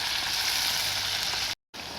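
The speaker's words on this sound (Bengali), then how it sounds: "কাঁটা বেগুনগুলো দিয়ে দিচ্ছি" Chopped eggplant sizzles loudly in hot rohu fish oil, a steady close frying hiss with a brief cut of silence near the end.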